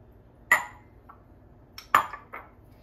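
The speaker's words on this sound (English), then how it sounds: "stir that up a little bit." A spoon scraping and clinking against a baking dish while pasta ingredients for a baked feta and tomato pasta are stirred, two or three sharp close knocks separated by quiet pauses.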